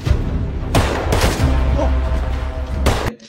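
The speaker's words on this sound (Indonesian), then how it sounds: "Dimulai dengan Cass yang mulai baku tembak dengan anak buah Big Cat" Gunfight in a film: loud bursts of rapid gunfire, several sharp shots in close succession over a dense rumbling background, ending abruptly.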